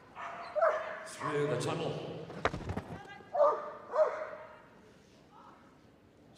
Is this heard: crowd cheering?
no